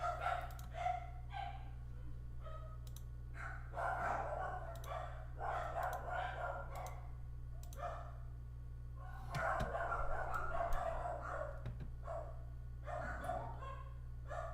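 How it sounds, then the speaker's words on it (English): Dogs bark in repeated bursts of yips and woofs at a moderate distance indoors, fairly faint, over a steady low electrical hum with no talking. "Dog's going crazy."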